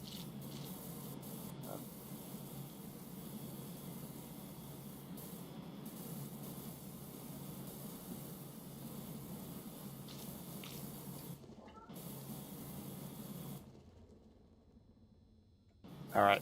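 A pressure washer in the game PowerWash Simulator 2 sprays in a long, continuous hiss of water, briefly breaking off and then fading near the end.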